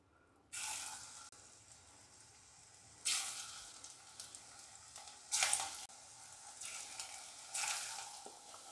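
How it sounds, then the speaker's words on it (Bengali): A second batch of potato and onion pakora sizzles in hot oil, a constant close crackle punctuated by several louder bursts as pieces drop in and are stirred, with no voices. "এবার আর একবার দেবো"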